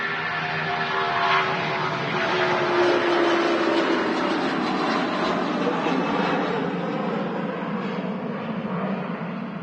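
A jet airliner landing at Manchester Airport roars loudly and continuously, a broad engine rumble and whine that holds steady before slowly easing off, with no talking.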